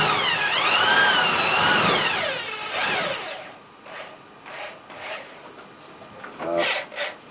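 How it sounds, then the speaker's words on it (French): Power drill boring a hole with a mismatched bit that spins off-true, giving a loud wavering whine for about three seconds, then several shorter bursts as the drill is restarted. "C'est pas une bonne mèche, c'est pas une mèche qui va avec ça, donc elle tourne pas rond."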